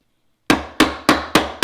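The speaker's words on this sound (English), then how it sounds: "rather than hitting it like that, I'm going to put it right in the middle of the chisel so that does not happen" Mallet blows land squarely on the middle of a woodworking chisel, five sharp, fairly loud hits at a steady rhythm after a short silence, each one ringing briefly before decaying.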